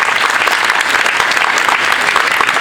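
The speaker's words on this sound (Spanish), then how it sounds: "Muy fuerte ese aplauso," Loud, dense audience applause at a tribute event for Pedro Claver in Cartagena, a steady roar of many hands clapping close by with no pauses.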